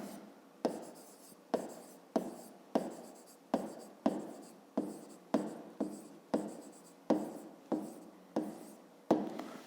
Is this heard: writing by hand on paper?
yes